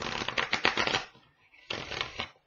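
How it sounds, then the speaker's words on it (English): Tarot cards are shuffled up close in two quick riffling bursts separated by a short pause, with crisp papery flutters. "one more shuffle, Virgo, then we'll cut and we'll start doing our reading"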